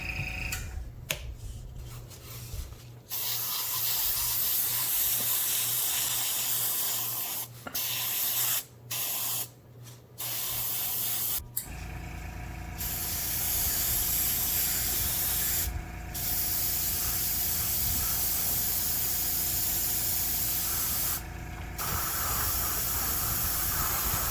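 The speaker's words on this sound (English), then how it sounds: "Use my Badger Patriot 105. This is my all-purpose airbrush." A Badger Patriot 105 airbrush spraying camouflage paint on a Dragon Jagdpanzer IV L/70 (V) model kit, loud airy hissing bursts that stop and start several times in short and long spurts, close to the listener.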